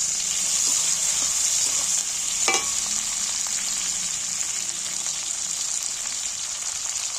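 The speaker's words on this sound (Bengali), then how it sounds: "পেঁয়াজটা ভাজা হয়ে যাচ্ছে।" Onions frying in a pan for an egg bhapa dish give off a steady, close sizzling hiss, with a brief clink of stirring partway through.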